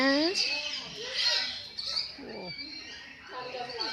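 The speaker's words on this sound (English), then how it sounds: "We're in the bird area where they saved all the birds." Birds at a native bird sanctuary in Maleny, Queensland, give high chirps and whistling calls, close and moderately loud, with some low voices murmuring underneath.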